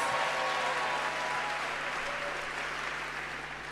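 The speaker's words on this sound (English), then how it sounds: "Go ahead and clap." Steady audience clapping for pastors at a church conference, a dense even wash of applause from a crowd that holds for the whole stretch and tapers slightly at the end.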